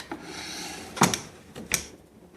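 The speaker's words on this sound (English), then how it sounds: "Let's open up some of the drawers and look inside." An old wooden dresser in a sewing studio has its drawers pulled open, giving two distinct sliding, knocking wood sounds close by over a low hiss of room noise.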